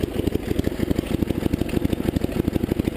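A 1975 Sears Suburban ST16 lawn tractor engine idles steadily and close up, with rapid, even low putters pulsing throughout and no voices.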